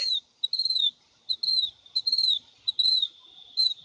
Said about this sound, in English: What is that whistling? A bird.